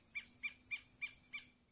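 Birds call from the rocky outcrop above a river at a dam in Bahia, five evenly spaced sharp, bright calls about a third of a second apart, fairly close and clear over a quiet background with no talking.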